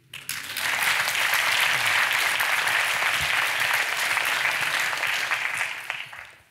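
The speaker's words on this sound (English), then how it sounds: "May I ask you for a really big applause for Fred Kempe?" A large conference audience applauds loudly and steadily for about six seconds, a dense wash of clapping that swells in quickly and fades at the end.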